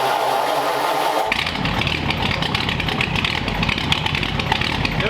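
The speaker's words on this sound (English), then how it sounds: "Let me know what you think of the exhaust note down below in the comments, good or bad. Let's hear it." A 1939 Mercury with dual exhaust cranks briefly, then fires up into a deep, loud, rumbling idle that stays steady and close for several seconds, with no talking.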